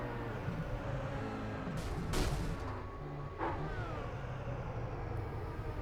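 Onboard audio of an IndyCar crashing into the wall at Phoenix in a racing video game: a steady engine drone broken by a couple of sharp impact bangs and scrapes, with no talking over it.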